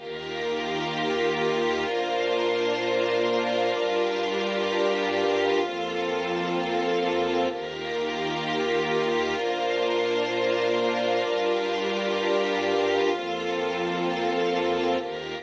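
Layered strings hold sustained notes with smooth transitions between chords, a full ensemble sound playing continuously and evenly loud throughout.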